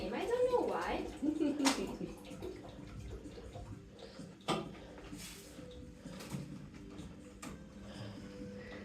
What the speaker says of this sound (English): Okay, so you're putting the water in.